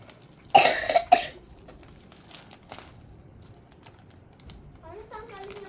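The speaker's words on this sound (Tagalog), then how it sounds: "Ano ba yan? Ubo." A person coughs twice in quick succession indoors, loud and close, followed by quiet room tone and a brief bit of speech at the end.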